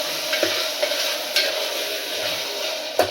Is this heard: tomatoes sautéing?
yes